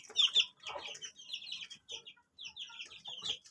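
Backyard chickens, a mother hen with her young, clucking and cheeping softly in short, scattered bursts, close and quiet.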